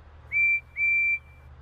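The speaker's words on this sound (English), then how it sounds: "No, that was a whistle. Percy's whistle." Two clear, steady whistle blasts from Percy, a cartoon steam engine at a quarry, each held about a third of a second with a short gap between them, standing alone over faint background hum.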